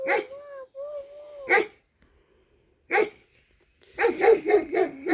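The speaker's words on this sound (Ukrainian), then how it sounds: "Ну, собака, правда, гавка на нас." A dog barks at passersby near a grazing cow in a rural village. A sharp bark comes first, then another after a pause, then a quick run of barks at the end. A brief voice-like tone is heard at the start.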